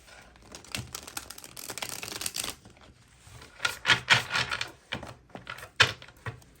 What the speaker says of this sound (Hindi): अब यहाँ से भी मैं निकालूंगी वही सेम 4 कार्ड्स